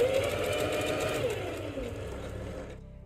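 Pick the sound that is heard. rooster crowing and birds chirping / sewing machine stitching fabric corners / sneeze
sewing machine stitching fabric corners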